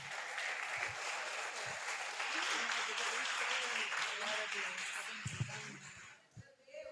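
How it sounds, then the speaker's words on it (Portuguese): A church congregation at a youth festival service claps together in sustained, dense applause, with a voice speaking over it before the clapping thins out near the end. "E as palmas louvam ao Senhor."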